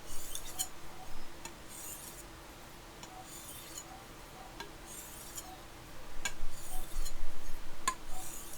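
A knife edge is drawn back and forth along a strop in a quick daily maintenance session, giving soft rhythmic swishing strokes with faint scraping, repeated at an even pace and rising a little louder near the end.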